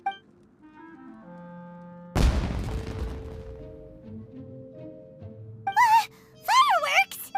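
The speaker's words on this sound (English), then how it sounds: "Was that an explosion? It sounded like fireworks." Fireworks burst with a sudden loud boom and crackle after a quiet stretch with soft tones, the blast decaying gradually, followed later by rising whistling tones.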